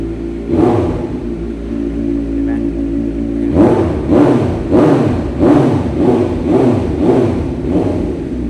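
A 2020 Kawasaki Z900 SE motorcycle idles steadily after a cold start, then is blipped through a run of about eight quick, loud throttle revs that rise and fall in a rhythmic series, close to the machine.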